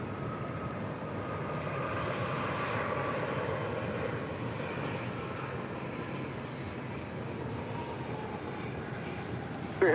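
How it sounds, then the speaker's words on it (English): An American Airlines Boeing 737-800 departs Los Angeles International Airport bound for Phoenix. A steady, broad jet roar holds at an even level throughout, distant but full, with no voices over it. "That was American Airlines Flight 899 heading to the Valley of the Sun, Phoenix, Arizona, and that's 737-800"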